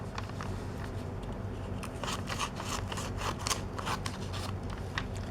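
Scissors cut through folded paper in close, rapid snipping strokes. The crisp clicks come in quick bursts over a low, steady background with no speech.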